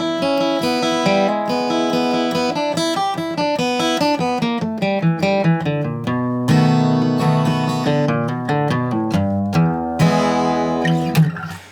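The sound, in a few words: fast bluegrass guitar lick in E, alternate picking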